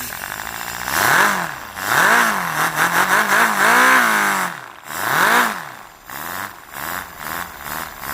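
A small paper model engine idles unevenly, its pitch swooping up and down in slow surges, loud and close with brief dips between revs.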